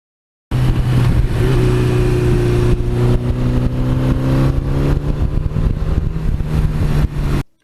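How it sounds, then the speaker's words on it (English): A 1982 Suzuki GS1100E motorcycle idles with a steady, low rumbling stock exhaust, close and continuous for several seconds before cutting off. "that rumble of the stock exhaust from that era."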